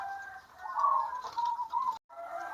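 A perkutut zebra dove of the cemani Majapahit breeding stock coos close by, a warbling call that rises and falls, then stops briefly and resumes.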